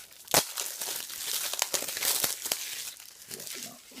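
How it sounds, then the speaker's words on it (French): Crinkly plastic wrap is torn and peeled off a film disc case, heard as close, continuous rustling with sharp crackling bursts and a few tearing snaps. "Donc, je vais vous le déballer."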